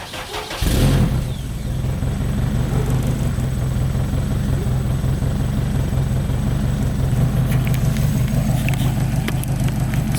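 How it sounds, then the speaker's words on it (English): A turbocharged Acura RSX cranks over and catches in cold weather, then settles into a steady, low, rumbling idle that runs on alone at close range with no talk. "I guess I could get a cold start for you guys since it is cold"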